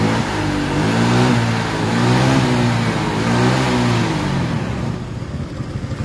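A Honda Vario 125 scooter engine idles and revs steadily up close, with a continuous mid-pitched motor drone that swells slightly in repeated waves before easing off near the end.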